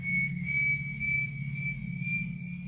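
An eerie, sustained high whistle holds one steady pitch for nearly three seconds, rising only slightly, above a low droning hum, like the ghostly tune of the Latin American Whistler legend.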